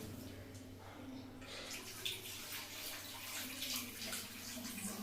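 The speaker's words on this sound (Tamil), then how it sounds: "இந்த மாதிரி வடிகட்டுறதுனால புளியில ஏடு மண் எது இருந்தாலும் வந்து அப்படியே நின்றுடும்" Tamarind water is strained through a filter in a home kitchen, making a faint, continuous trickle and pour of liquid with soft drips.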